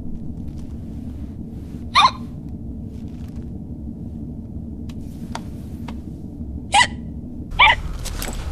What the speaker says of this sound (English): Sounds almost like hiccups.